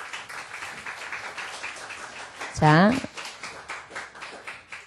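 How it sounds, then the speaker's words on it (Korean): A church congregation at a Sunday worship service claps in a steady, rhythmic pattern at moderate volume, while a voice briefly speaks over it. "우리 함께 박수 쳐드릴까요?"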